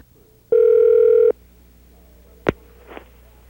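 A car phone from 1983 calling an office gives a single loud, steady electronic ring tone lasting under a second, followed by a sharp click as the line is picked up and faint line noise.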